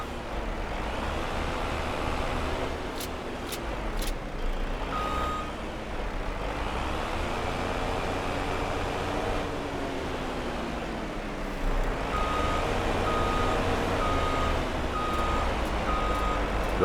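In Farming Simulator, a truck's engine drones steadily while its reversing alarm sounds, with spaced high beeps in short bursts near the start and a regular run of beeps toward the end.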